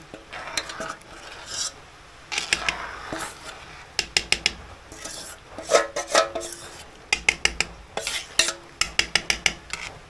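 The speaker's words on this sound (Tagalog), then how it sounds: "Tapos haluin natin." A spoon stirs ginataang bilo-bilo, a coconut-milk dessert with glutinous rice balls thickened with rice flour, in a pot, giving repeated close scraping and clinking strokes in uneven bursts with no talk.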